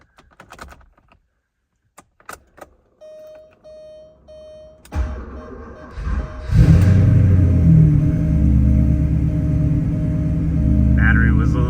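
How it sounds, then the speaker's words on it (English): A 1988 Porsche 928 S4 is cold-started: a few clicks and a steady warning chime come first, then the starter cranks and the V8 catches into a loud, steady, rumbling idle that continues to the end. "Now let's do a cold start."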